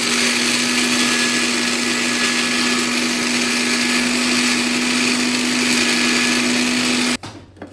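A countertop blender grinds eggshells into dry powder with a steady, loud motor whine and constant gritty rattle, cutting off abruptly near the end.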